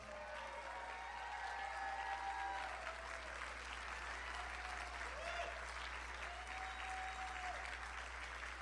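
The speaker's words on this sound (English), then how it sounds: "Let's give them a round of applause." Audience applause at a live election night event in Washington, D.C., a steady, continuous round of clapping from a crowd heard at a moderate distance, with some voices mixed in.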